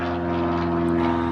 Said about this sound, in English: Ooh, planes are going overhead.